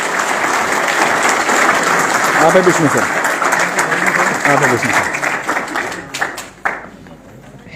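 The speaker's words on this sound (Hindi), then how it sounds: "तो एक बार विष्णु सर के लिए बहुत जोरदार तालियां।" Loud, sustained applause and clapping from a training-session crowd honouring Vishnu sir, steady throughout and easing near the end, with a voice talking over it.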